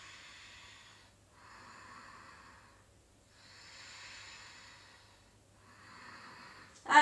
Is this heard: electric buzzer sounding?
no